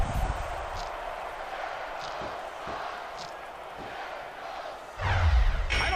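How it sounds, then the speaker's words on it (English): Steady roar of a wrestling arena crowd in WWE SmackDown vs Raw 2006, a continuous wash of cheering that swells louder near the end, with commentators' voices over it. "Sounds like this crowd's got something on their minds, King."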